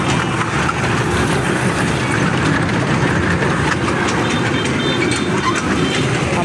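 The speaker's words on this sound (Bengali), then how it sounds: "এখানে ছোট বাচ্চাদের ঘোরার জন্য ট্রেন আছে, এই যে দেখুন ছোট বাচ্চারা ঘুরতে পারবে।" A small children's ride train in a village park near Savar, Dhaka, rumbling loud and steady with a continuous rattling clatter that never lets up across the whole stretch.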